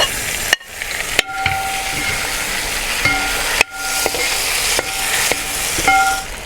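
Chopped tomatoes drop into a pan of frying duck masala, bringing a loud, steady sizzle broken by sharp scraping stirs and clanks of a spoon against the pan, with no voices.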